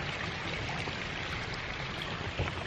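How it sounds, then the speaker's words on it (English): Spring water runs steadily into and out of an old in-ground swimming pool in Florida, a continuous close trickling stream with a constant babble and no voices. "It's the spring water feeding it."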